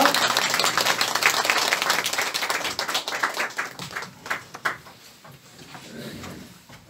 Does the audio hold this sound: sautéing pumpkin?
no